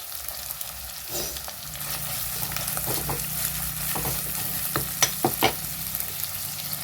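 Spices and ginger fry in a pan for a Mangalore-style mackerel dish, giving a soft, continuous sizzle with scraping stir strokes and a few sharper clicks of the spoon near the end.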